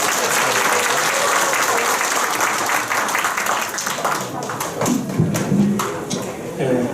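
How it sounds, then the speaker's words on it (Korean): An audience at a traditional Korean archery association's coaching seminar applauds to welcome a lecturer; full, even clapping thins out into scattered individual claps near the end, with some voices mixed in. "박수로 맞이하여 주시기 바랍니다"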